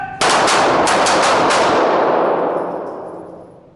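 Pistol shots fired in quick succession at a shooting range, a rapid burst of about six loud cracks close by that rings out in a long, fading echo.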